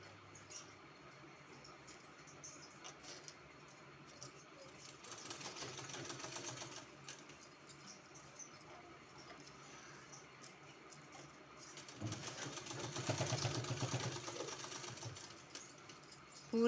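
Sewing machine stitching along the hem of a kurti, running in steady bursts with short pauses and two louder, faster runs, close by with no talk.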